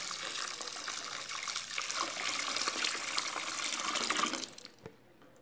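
Fabric softener liquid pours in a steady, continuous stream for about four seconds, a broad splashing gush that stops abruptly, followed by a couple of faint drips.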